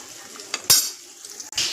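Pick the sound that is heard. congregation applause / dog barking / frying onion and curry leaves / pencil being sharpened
frying onion and curry leaves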